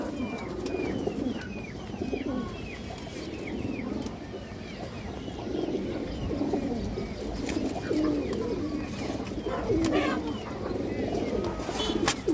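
Pigeons coo continuously close by, a low rolling chorus of overlapping coos among high-flyer and Pakistani pigeons, with faint chirps and background noise throughout.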